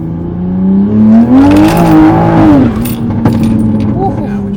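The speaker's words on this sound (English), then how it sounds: "You think a stock Supra turbo is going to sound like that?" A 700+ hp single-turbo MKV Supra engine revs up and falls back in a loud, close surge with whirring turbo tones, heard from inside the car with people talking over it.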